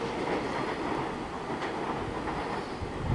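A train rumbles through a tunnel at Box Hill station, a loud, continuous roar with faint clickety-clack from the wheels, echoing and sustained throughout without speech.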